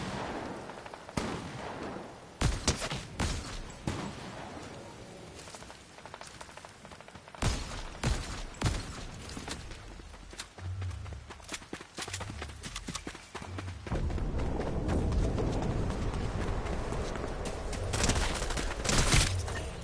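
Gunfire in Fortnite, with several sharp, loud cracks and bursts scattered over a busy game soundscape, followed by a heavier, continuous rumble near the end.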